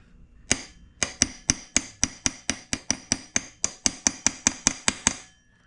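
A hammer taps a lock washer tab on a Vespa smallframe engine, bending it against the nut with about twenty sharp, evenly spaced metallic strikes, close and clear with no talking.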